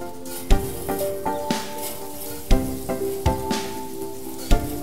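Oil with tomato and red pepper sizzles steadily in a paella pan, with a soft crackling bed broken by sharp clicks and occasional scraping stirs.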